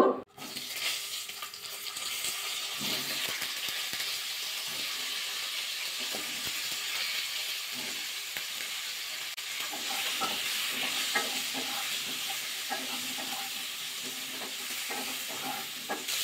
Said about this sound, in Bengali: এবার কপিগুলো দিয়ে ভাজা করে নেব।